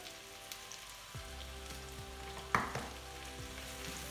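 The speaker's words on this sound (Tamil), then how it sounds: "ஒரு 5 மினிட்கிட்ட இந்த மஷ்ரூம் சாஃப்டாக வரைக்கும் கொஞ்சம் எண்ணெயிலே ஃப்ரை பண்ணி எடுக்கணும்" Mushrooms fry in a little oil, a quiet, steady sizzle with faint crackles and one sharper stirring clink, heard close and without talk.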